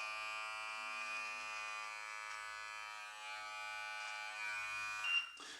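An electric beard trimmer buzzes steadily up close as it cuts mustache hair, a constant high whine with a brief shift near the end.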